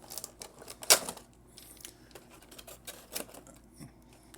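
Angled snips clipping zip ties on toy packaging, a few sharp close snaps with one loud cut, amid light rustling of the package.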